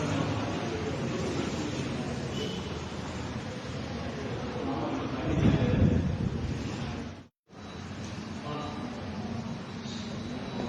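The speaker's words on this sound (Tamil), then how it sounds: "காற்று நல்லா இருக்கு வெளியே மழை வந்துட்டு இருக்கு" Steady wind roars outdoors, blustery and constant, with a stronger gust in the middle and a brief dropout before it resumes.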